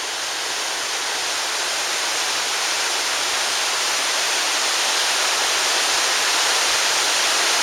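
Waterfall on Kolob Mountain in the Zion National Park area, about 8,000 feet up, feeding the Virgin River: a steady, loud broadband rush of falling water that holds constant throughout, with no voices.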